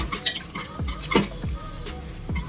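A small wooden churner whisks boiled dal into a smooth paste in a pot, making quick repeated knocking and swishing strokes with a few clinks of metal, close and steady.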